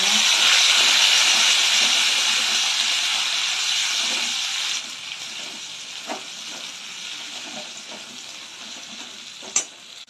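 Ginger and green chilli tossed into hot oil tempered with dried chilli, giving a steady loud sizzle that gradually softens, with occasional stirring clicks and a sharp spoon tap near the end.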